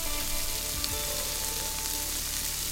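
A Philly cheesesteak sizzles in a pan over a campfire at an overlanding Jeep campsite, a steady close frying hiss running throughout with no talking.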